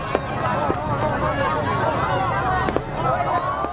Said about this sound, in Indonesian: Pekikan suara mercon memecah suasana.